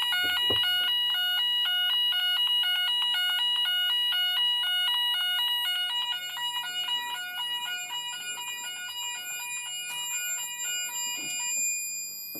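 A Gent addressable fire alarm sounds during a garage detector test, a loud, steady repeating two-tone electronic pattern that runs continuously, with faint room noise underneath toward the end.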